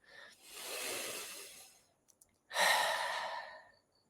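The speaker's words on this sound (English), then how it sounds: "Take another deep breath." Two deep breaths during a guided meditation, a long airy inhale followed after a short pause by a stronger, louder exhale, close to the microphone with no talking.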